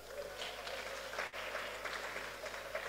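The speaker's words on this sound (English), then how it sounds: "Clap for that young man." A church congregation at a midweek service applauds a young man, a faint, steady patter of many hands clapping for a few seconds, distant and low in level.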